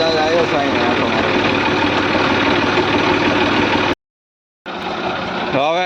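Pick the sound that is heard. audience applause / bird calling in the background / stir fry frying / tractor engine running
tractor engine running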